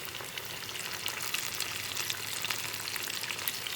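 KFC-style chicken pieces frying in hot oil, a steady dense sizzle and crackle filling the whole stretch at moderate level with no voices.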